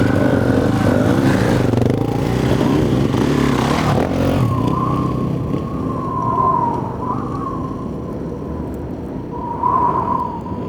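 An enduro motorcycle rides across rough volcanic terrain, its engine a loud, steady drone that rises and wavers in pitch as the throttle changes, with no talking.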